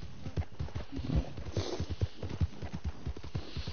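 Horse hooves in Red Dead Redemption 2 clip-clop in a quick, steady trotting rhythm, close and fairly soft, with faint talk underneath.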